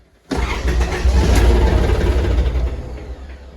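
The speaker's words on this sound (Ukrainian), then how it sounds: "Так, схватив зразу, але заглох." An Iseki TA2 tractor engine is started cold without glow plugs, catching immediately with a loud, rough diesel roar, then running briefly before fading as it stalls, with no speech.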